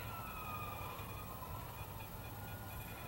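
A police car siren wails steadily in Grand Theft Auto V, its rising and falling tones sitting over a dense, constant rumble of game noise.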